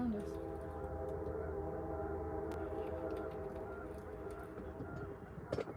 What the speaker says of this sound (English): Train's coming, so it's probably gonna get loud, guys.